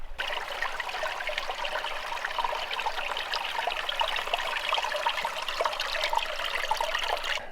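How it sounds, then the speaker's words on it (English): Water trickles and splashes down mossy rocks at a small waterfall, a steady close rushing babble that carries on without a break and with no speech. "There's just so much water flowing right here."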